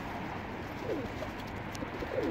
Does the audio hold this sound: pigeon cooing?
yes